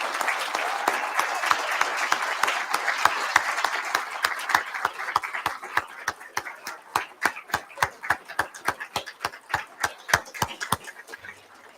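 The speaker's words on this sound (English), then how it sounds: "Let's give them a round of applause." Audience applause at a student awards ceremony, beginning as a dense crowd ovation that gradually thins until only a few people are clapping in sharp, evenly spaced claps, fading near the end.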